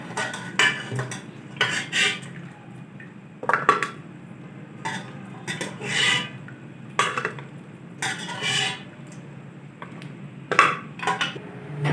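Cooked mutton being lifted out of a cooking pot of stock, with repeated metallic scrapes and clinks of a utensil against the pot in irregular bursts, close and fairly quiet.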